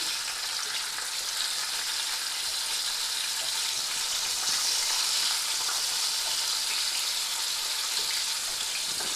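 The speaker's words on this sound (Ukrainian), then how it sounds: "Тепер перевертаємо рибку на третю сторону, щоб вона добре просмажилася з усіх боків." Bream fries in a well-heated cast-iron pan, giving a steady, close sizzle and crackle of hot oil that holds evenly throughout with no voices.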